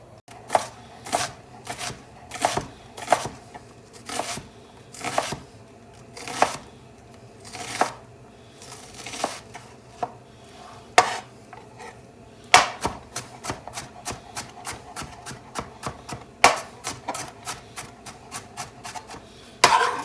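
An onion being chopped with a knife on a board for wedding soup meatballs, crisp close knocks that come in slow spaced strokes at first, then a fast even run of rapid cuts, with no talking.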